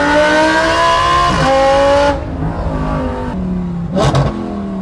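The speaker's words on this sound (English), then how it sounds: "You can tell it has a really exotic, high-pitched motorsport sound comparative to a traditional Audi R8 exhaust" An Audi R8 GT fitted with a titanium exhaust and free-flow headers revs hard and loud close by, its high-pitched engine note climbing through several gear-like steps, then dropping and flaring once more.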